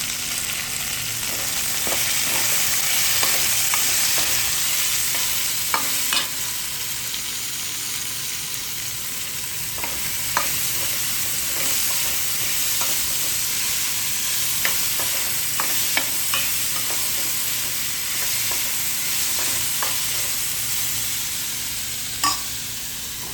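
Capsicum and cabbage stir-frying in a pan, a loud, steady sizzle running throughout with occasional scrapes and clacks of stirring, close and alone.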